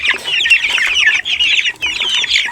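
Gamefowl chickens cluck and chatter continuously at feeding time, a close dense flock calling in quick overlapping bursts with no talking.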